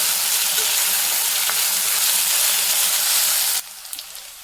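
Ginger garlic paste fries in oil with a loud, dense, close sizzle that holds steady, then abruptly drops to a softer crackle near the end, with no voices.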